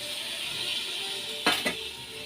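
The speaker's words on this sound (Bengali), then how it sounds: "চাল ডাল দিয়ে এই যে কষে নিচ্ছি।" Rice and lentils stir-fried with spices in a pot for vegetarian khichuri, a steady close sizzle broken by two sharp clinks of a utensil against the pot near the end.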